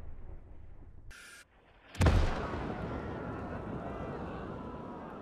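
A single artillery shell slams down in a WWII North Africa battle game, a sudden loud close impact followed by a long rumbling, hissing decay, preceded by a brief high whistle.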